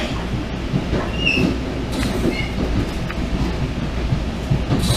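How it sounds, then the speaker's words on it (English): Commuter train on the Deux-Montagnes line in Montreal, heard from inside as a steady loud rumble of wheels on rail with a few faint squeals over the continuous roar. "Man, I haven't taken a train on this line in a long, long time."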